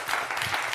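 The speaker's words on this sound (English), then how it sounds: "let's give a round of applause for Con and Rob" Short burst of audience applause at a talk with GT-R racing builders, a brief even wash of clapping without pause.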